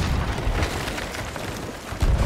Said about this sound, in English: My cannons aren't hitting well.